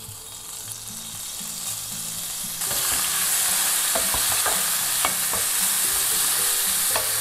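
Bacon fries in olive oil in a pan, a steady close sizzle that swells louder partway through and then holds, with light scraping stirs over it and quiet music underneath.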